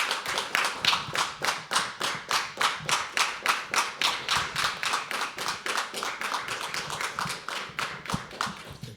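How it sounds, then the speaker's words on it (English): An open mic poetry audience at The Habitat claps for a poet in a steady, rhythmic beat. The claps are loud, close and continuous for the whole stretch. "Can we start clapping for Mashood?"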